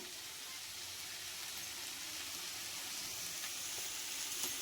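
Chicken liver frying with curry leaves in a pan, making a soft, continuous hissing sizzle at an even, low level with a few faint ticks.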